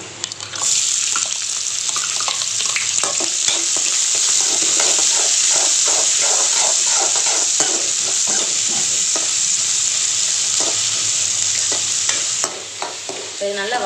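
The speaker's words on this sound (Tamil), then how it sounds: "வதங்கட்டும் இப்போ வந்து வெங்காயம் நல்லா வதங்கிடுச்சு" Onions and curry leaves sauté in a hot pan for a Chettinad chicken curry, a loud continuous sizzle with repeated scraping stirs of the spatula throughout.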